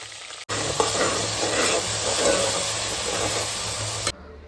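Onion paste frying with green chillies in hot oil for a Telangana-style crab curry, a steady close sizzle with stirring scrapes, running alone for about four seconds before cutting off.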